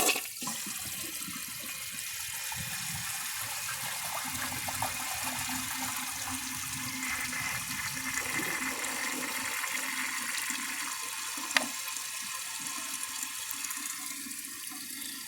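A 1981 Briggs Conserver toilet flushes with a steady rush of water that runs throughout, then settles into the hiss of the tank refilling, heard close and alone.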